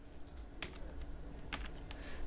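Keys on a computer keyboard tapped a few times in quick, irregular clicks, faint and close, over low background hiss with no talking.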